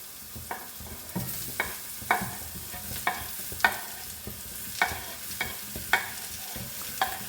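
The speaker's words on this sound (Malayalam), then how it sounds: "നന്നായിട്ട് ഇളക്കാം. എല്ലായിടത്തും വെളിച്ചെണ്ണ ആവട്ടെ." Ridge gourd pieces are stirred and fried in coconut oil: a soft background sizzle broken by a string of sharp scraping stirs, roughly a dozen, coming at a fairly regular pace, close and clear, with no talking.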